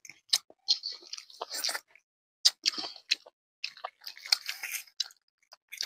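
Close, wet chewing and biting of chicken during a mukbang, bursts of crunchy, squishy mouth sounds separated by brief silent pauses, with no talking.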